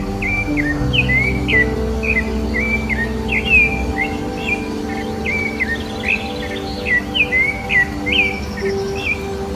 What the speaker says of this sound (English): Coca thrush fills the air with its melodious voice.